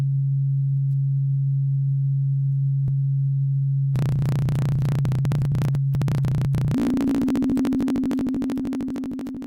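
Braids oscillator on a software modular synth plays a wave mimicking digital communication signals: a steady pure low tone, then a dense buzzing, chattering data-like texture joins and the pitch steps up, loud and continuous.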